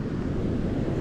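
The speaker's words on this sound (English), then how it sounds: "It's quite windy." Strong wind buffets the microphone on a beach during spring surf fishing for striped bass, a steady low roar with rough, choppy surf churning underneath and no voices.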